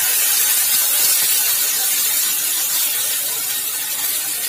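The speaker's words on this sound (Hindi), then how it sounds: "और ये जो टमाटर हैं पीसों में कटे हुए, इसे हम एक पैन में फ्राई कर लेंगे" Chopped tomatoes frying in a little oil in a pan: a steady, dense sizzle that stays loud and even throughout, with no voices over it.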